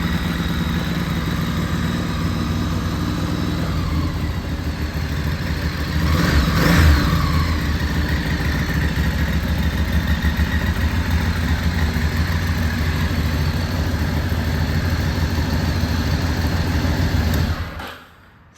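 A Ducati Monster S2R motorcycle engine idles steadily to warm up, a close, continuous low rumble that swells slightly for a moment before cutting off near the end.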